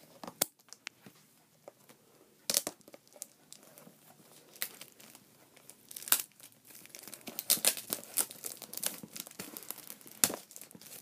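Plastic packaging of a new video camera is cut and pulled open close by, with intermittent crinkling, snipping and crackling rustles that grow busier toward the end.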